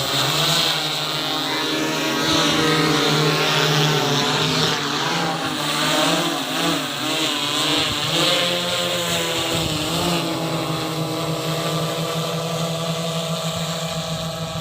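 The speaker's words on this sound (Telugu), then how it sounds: "డ్రోన్ పెస్టిసైడ్ స్ప్రే చేస్తుంది. దీని కెపాసిటీ వచ్చేసి 10 లీటర్. ఇది హెక్సాకాప్టర్ వచ్చేసి." A 10-litre agricultural hexacopter drone spraying pesticide, its rotors giving a loud, steady droning buzz that wavers in pitch as it flies, continuous throughout with no voices.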